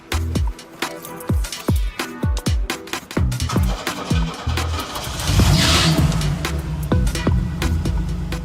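A 1977 Opel Diplomat engine turns over with rapid rhythmic firing pulses, then catches and settles into a loud, steady, close running note as the car drives.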